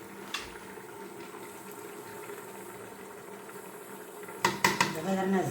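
A pot of food simmers and bubbles on a stove in a home kitchen, a steady low bubbling bed, then a few sharp clinks of pots and utensils near the end.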